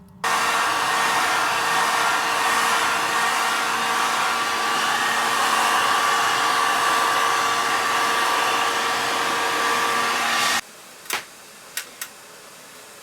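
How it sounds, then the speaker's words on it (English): A heat gun blows a loud, steady whooshing hiss while warming a wax melt mold, running continuously up close for about ten seconds before cutting off, followed by a few sharp clicks in quiet. "first I heated up the mold a little bit with the heat gun"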